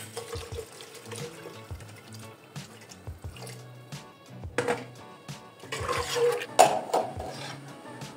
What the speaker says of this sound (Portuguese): Vou colocar mais água.